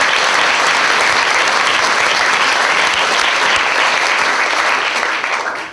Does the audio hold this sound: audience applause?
yes